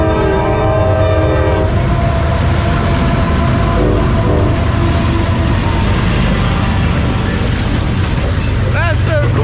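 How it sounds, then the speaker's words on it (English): A train roars past close by, its horn blaring loudly at the start over the heavy rumble of the cars on the track. "Here comes the train!"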